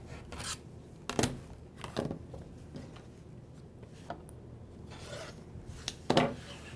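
Quilt fabric strips on a square-in-a-square block are trimmed in a few quick rasping cuts, close and fairly soft, spaced over a quiet room with no talking.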